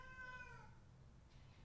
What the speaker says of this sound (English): Cat. Oh my gosh, that poor cat.